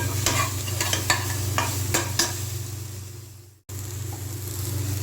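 Steady bubbling and sizzling of a pot of crab soup on the heat, with several sharp scrapes and clinks of a spoon stirring, then a brief dropout.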